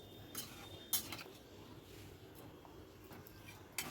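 Spoon stirring curry in a metal cooking pot, heard as a few faint, sparse clinks and scrapes over a low, steady kitchen background.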